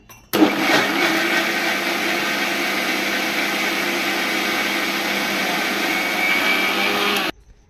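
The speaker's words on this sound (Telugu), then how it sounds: "గ్రైండ్ చేసుకుందామండి. అదే మిక్సీ చేద్దాం." A mixer grinder churning cream to make ghee whirs loudly and steadily for several seconds, starting abruptly and stopping just as suddenly, with no voices.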